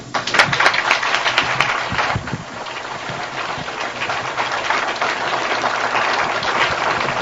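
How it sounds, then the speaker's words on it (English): Sustained applause from an audience after an evening talk, a dense, steady wash of many hands clapping that carries on without a break and with no voices over it. "let's give him another warm round of applause"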